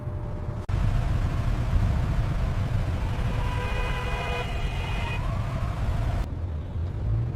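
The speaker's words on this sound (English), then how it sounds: "Oh, traffic. Please move, cars." Road traffic rumbles steadily around a car, a constant low engine and tyre drone with a passing vehicle's whine swelling briefly near the end, heard from inside.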